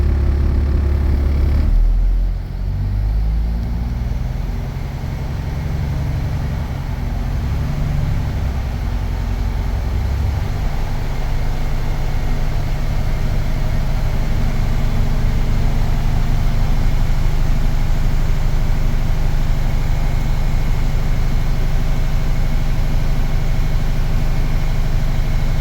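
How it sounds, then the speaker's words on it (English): A truck's air brake compressor runs as pressure climbs toward the governor cut-out, a steady low engine drone with an idling hum that holds evenly after a brief shift near the start. "I'm going to raise up the PSI to between 120 and 140 and listen for the governor to cut out."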